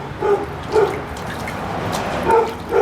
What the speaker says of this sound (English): The neighbour's dog is an asshole and barks its head off just for fun.